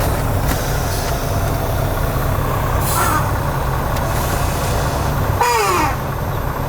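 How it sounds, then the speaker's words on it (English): A truck's spike brake is applied during a brake check while coupling and uncoupling a trailer, a sharp hiss of releasing air over a steady idling diesel engine, with a short squealing burst near the end. "So we're gonna check the spike brakes now."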